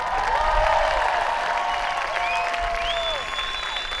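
A large outdoor crowd claps and cheers at a rock concert by Lago di Santa Croce in Alpago, dense sustained applause with whistles and tonal ringing over it, easing slightly toward the end.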